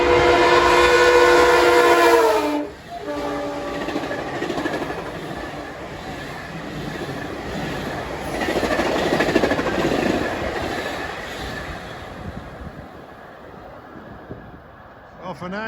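An M3 commuter train races east past the New Hyde Park Road grade crossing on the last PM rush hour, opening with a loud sustained horn blast, then a long steady roar of passing railcars that swells and slowly fades as it departs.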